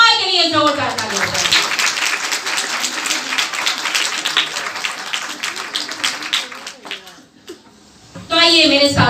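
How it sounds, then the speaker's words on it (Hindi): Church congregation at an evangelist's sermon breaks into loud, sustained clapping and applause, with a preacher's voice speaking over it, fading briefly before another burst of clapping at the end. "सबसे पहले यीशु के जलाल के लिए जोरदार तालियां"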